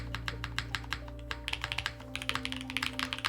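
Typing on a Solaris keyboard fitted with Blue Cheese V2 switches: a fast, uneven run of deep, close clacky keystrokes with a brief pause midway, over a low background hum, no voice.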